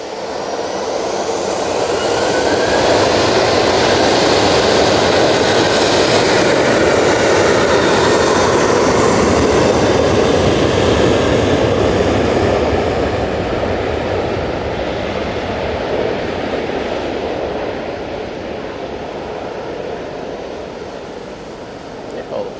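A Jet2 Boeing 737-800 takes off at Manchester Airport, its broad roaring engine noise building, holding loud for many seconds and then slowly fading as it climbs away.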